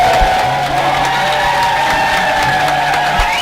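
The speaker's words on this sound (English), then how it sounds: "I want everyone to clap their hands and then start the cheering like before" A large live comedy audience claps and cheers on cue, a dense wash of crowd noise with whoops and shouts rising throughout, loud and sustained for the whole stretch.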